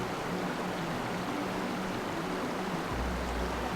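Stream flowing along the Northern Ireland coast makes a steady, broadband rushing wash that stays constant and fairly close, with a low rumble entering near the end.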